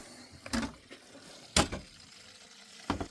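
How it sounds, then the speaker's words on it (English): Three sharp metallic knocks, spaced unevenly and close by, as the loose water pump shaft of a BMW G31 car with play in it is rocked back and forth; quiet between clunks. "That's the water pump shaft."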